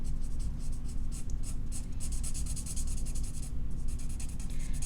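An Arteza Everblend alcohol marker's bullet nib rubs and squeaks across paper in rapid repeated coloring strokes, close and clear, with no voices.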